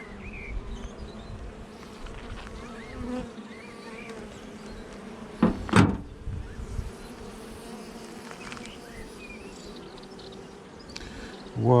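Honeybees buzz steadily around an opened hive holding a small, weak colony, a soft continuous drone with a brief louder swell near the middle and a close bump at the end.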